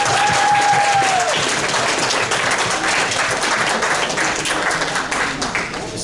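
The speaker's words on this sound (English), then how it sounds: "Let's give her a round of applause for that." Audience applause fills a room at an anime convention game show, a steady, dense burst of clapping that starts loud and tapers slightly over several seconds, with a brief tone early on.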